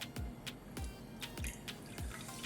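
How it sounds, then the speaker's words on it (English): Homemade Jamaican sorrel juice is poured into a glass, making a close, quiet run of rhythmic glugs and drips spaced about a third of a second apart. "So I just pour a glass."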